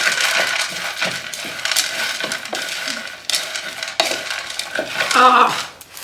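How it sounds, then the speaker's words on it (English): A mixture with raisins is stirred in a bowl, giving a continuous close rustle and scrape with several clicking knocks of the spoon against the bowl, fairly loud and uneven, with no talking. "Now, we're going to give it a good stir."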